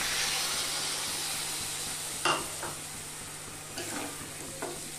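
New potatoes are stirred with spices in a frying pan with little oil, giving a soft, steady sizzle and hiss with a few brief scraping stirs from a spoon.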